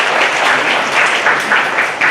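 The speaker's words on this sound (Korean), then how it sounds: "뜨거운 박수 한번 주십시오" Audience applause filling a hall after a religious address, a dense steady wash of many hands clapping for about two seconds, loud and continuous with no talk over it.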